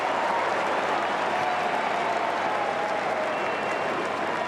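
A big crowd at a Carlton versus Collingwood AFL match breaks into sustained applause and cheering, a dense, even roar of clapping from the stands filling the whole stretch.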